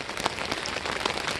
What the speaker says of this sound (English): that noise you hear in the background is rain